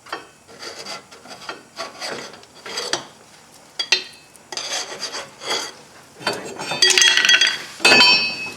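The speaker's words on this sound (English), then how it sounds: "There's crud off the axle. Sanding it, I'm just kind of scraping it off." Scraping and sanding crud off the rear axle of a 2005 Chevrolet Suburban 1500 4x4: short, irregular rasping strokes come in bursts with pauses, close by and fairly quiet, with occasional metallic clinks.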